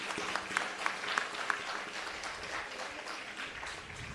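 An audience at a girl's Chilanga Pooja gives a young artist a round of applause, steady moderate clapping throughout with a few sharper claps early on and some faint voices mixed in.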